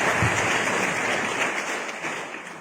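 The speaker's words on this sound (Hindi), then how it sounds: "अफजल रजा साहब के लिए भी तालियां होनी चाहिए" An audience claps for Afzal Raza at a motivational talk, a dense, steady wash of applause close by that fades slightly toward the end.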